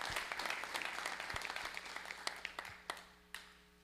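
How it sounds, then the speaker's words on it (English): An audience at a real estate investors' meetup applauds, a burst of many hands clapping that thins out over a few seconds into scattered final claps. "So everybody, give him a big round of applause."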